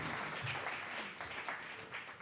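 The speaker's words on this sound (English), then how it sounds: "let's give them a big round of applause" A symposium audience at a historic Mobile Street festival gathering claps steadily in a dense, even wash of applause, faint and somewhat distant, with no voices over it.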